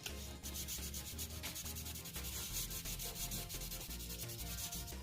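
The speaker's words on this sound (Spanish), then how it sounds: "le podemos dar una sentada con lija 1000" Plastic is rubbed with 1000-grit sandpaper in steady, rhythmic back-and-forth strokes, close up and alone, with no voices.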